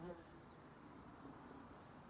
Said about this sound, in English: a bee is trying to get at my camera here